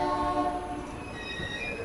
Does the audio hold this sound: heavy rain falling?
no